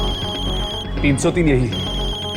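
A mobile phone ringtone sounds steadily throughout, a repeating electronic ring, while someone speaks briefly over it midway.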